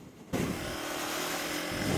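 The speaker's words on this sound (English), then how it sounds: "Whipping it around, little burnout. Another little drifting burnout." A Yamaha dirt bike engine revs hard during a drifting burnout, a sudden loud, sustained roar that starts abruptly and holds steady close by.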